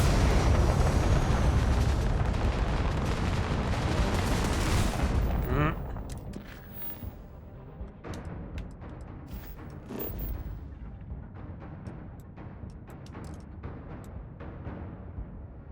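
Gunfire and explosive booms from the video game Starfield, dense and loud for the first few seconds, then dropping to scattered shots and impacts under softer game sounds.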